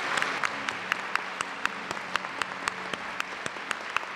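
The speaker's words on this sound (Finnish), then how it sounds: "Eli suuri aplodi meidän mestarille tässä." An audience claps to welcome a speaker to the stage, giving a sustained, even applause with individual sharp claps standing out. It continues steadily without any voices.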